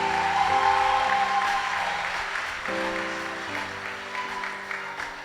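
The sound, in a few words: church congregation applauding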